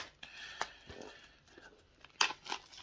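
Plastic film is peeled and crinkled off a Scream 2 4K Ultra HD steelbook Blu-ray, heard as quiet, irregular rustles and tearing crackles with a sharper burst of crinkling near the end.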